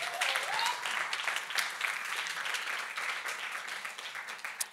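A crowd in a hall applauds warmly and steadily, the dense clapping holding at an even level throughout without a break.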